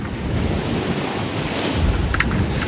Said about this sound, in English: Pretty big waves here.